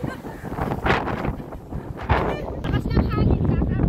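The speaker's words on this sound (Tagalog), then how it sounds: "hindi biro, ang lakas ng hangin" Strong wind gusts buffet the microphone at Marina Bay in Singapore, roaring steadily with surges while people talk and laugh over it.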